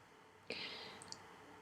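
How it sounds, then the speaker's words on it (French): A single sharp keypress on the left arrow key of a computer keyboard, one quiet close click against faint room hiss, followed by a couple of softer ticks. "Avec la flèche de déplacement de mon clavier, j'appuie une fois sur la flèche qui pointe vers la gauche."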